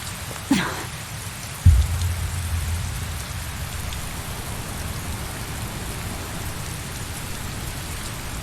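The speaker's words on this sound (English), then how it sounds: "Of course, it's raining, isn't it?" Steady rain pours across a scene in the video game Tales of Berseria, an even hiss throughout, with a sharp low thump near the start like distant thunder or an impact.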